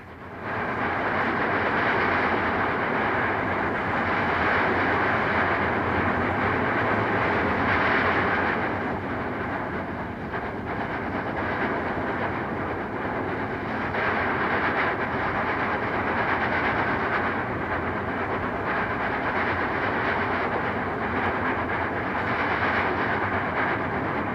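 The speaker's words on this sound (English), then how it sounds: "Here's a short clip of an AC-8 working up Tehachapi. In these old film clips, we see 4 locomotives moving a train toward the loop." A Southern Pacific AC-8 cab forward steam locomotive, one of four hauling a long freight up the Tehachapi grade toward the loop, gives a loud, steady, continuous rumble and roar with no voices.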